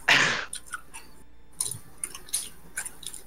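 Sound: chewing gum

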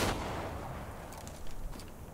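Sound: gunfire in the video game Resident Evil

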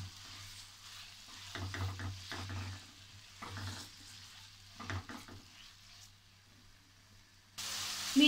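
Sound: chicken frying in a pan

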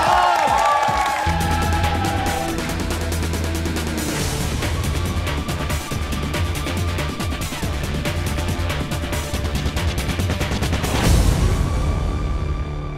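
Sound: audience applause after magic trick

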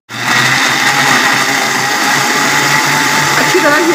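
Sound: blender grinding bananas with milk

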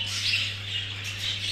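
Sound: pet birds squawking in a cage

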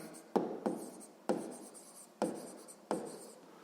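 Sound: writing down the radius and diameter

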